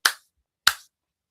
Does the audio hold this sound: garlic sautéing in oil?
no